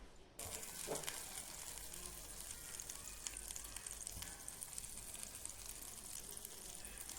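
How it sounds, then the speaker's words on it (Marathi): Butter melts into ghee in a pot on a gas stove, a faint continuous sizzling bubble that starts abruptly and holds steady. "आता बघा मी पातेल्यामध्ये लोणी घेतलेलं आहे आणि आता मी हे ठेवते गॅसवर"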